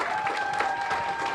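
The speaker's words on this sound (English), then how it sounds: "Everyone's standing up, clapping for him." Supporters clapping for John Fleming at a Louisiana primary runoff election night gathering, a steady patter of applause from a room crowd with a faint tone running beneath.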